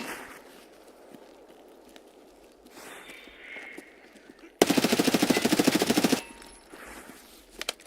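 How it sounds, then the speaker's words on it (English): Gunfire from a shotgun erupts in Escape from Tarkov: a loud, rapid volley of shots lasting about a second and a half, set between quieter stretches of ambient game noise and faint movement. "That's somebody with a shotgun."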